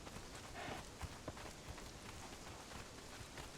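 Steady, soft rain in the Conan Exiles game makes a faint, even hiss, with light footfalls thudding now and then beneath it.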